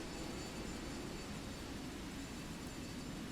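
A Harrier GR1 jump jet in War Thunder, its engine thrust a steady, broad roar held near 70% throttle, with no other sounds and no speech.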